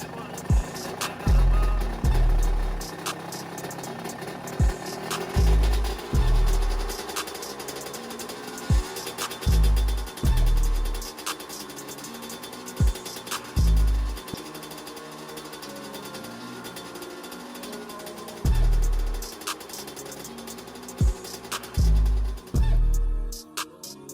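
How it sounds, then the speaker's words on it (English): Dirt bike engines warming up, a steady mechanical drone underneath heavy low thumps that repeat in bursts of two or three every few seconds, loud and close throughout. "we'll go ahead and warm up our engines"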